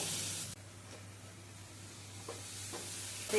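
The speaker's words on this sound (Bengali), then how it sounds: "দিয়ে দিলাম পেঁয়াজ আদা রসুনের পেস্ট পেঁয়াজ আদা রসুনের কাঁচা গন্ধটা চলে যাওয়া পর্যন্ত নেড়ে চেড়ে নেব" Onion, ginger and garlic paste frying in a pan, a hiss that cuts out abruptly and then settles into a softer low sizzle with a couple of faint stirring scrapes.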